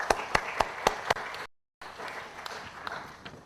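Applause after a session, several sharp separate claps at first, then after a brief dropout a softer, denser patter of many hands, moderately close.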